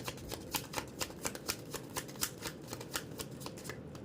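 Tarot cards shuffled by hand up close, a quick, steady run of crisp riffling snaps over a soft papery rustle, with no talking.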